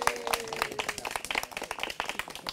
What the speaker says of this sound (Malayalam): റബി നവാസിനെ കൈയടിച്ചുകൊണ്ട് സ്വാഗതം ചെയ്യാം.